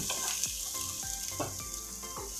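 Onion rings half-cook in a pan for beef bistek, a loud, steady frying sizzle with several rhythmic scraping stirs cutting through it, and no voices.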